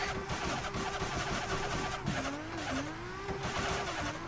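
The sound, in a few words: car drifting with e-brake and clutch kick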